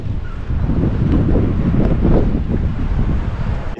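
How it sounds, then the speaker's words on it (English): Strong wind buffets the microphone in steady, roaring gusts on the Jeddah Corniche, loud and close, with no talking. "getting really, really windy"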